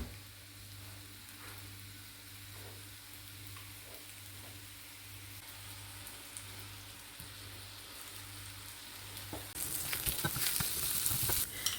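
Part-pork burger patties fry in a pan with a soft, continuous sizzle and faint crackle throughout, swelling louder and brighter near the end.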